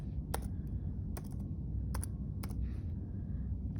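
A name is typed on a computer keyboard in a run of light, fairly faint key clicks over a steady low background hum.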